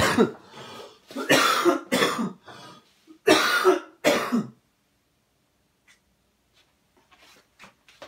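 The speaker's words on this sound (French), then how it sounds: "Pardon, attends, je vais tousser." A person coughs several times in close, harsh bursts, then quiet follows with faint small rustles and scratches.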